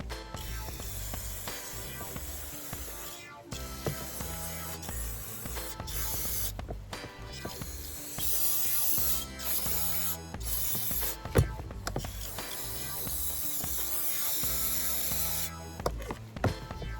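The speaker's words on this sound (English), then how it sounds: "we're gonna spray it with some brake cleaner" Brake cleaner sprays in long hissing bursts onto the front brake parts of a 2014-2020 Acura MDX, close up, with short pauses and clicks of the can between sprays.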